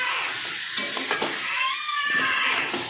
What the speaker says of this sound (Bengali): কাঁকড়াগুলো দিয়ে আমি একটু কষবো।